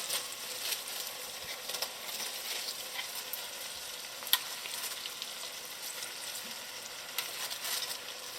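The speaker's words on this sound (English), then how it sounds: "And then we're going to add our cabbage." Shredded cabbage added to onions in a pan for chicken paprikash fries with a steady, close sizzle and crackle, broken by occasional light clinks and stirring sounds, with no voices.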